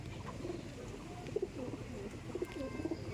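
Madrasi pigeons at a loft of tournament-quality birds coo in low, repeated murmurs, with a few brief bursts standing out against a steady background of soft calling.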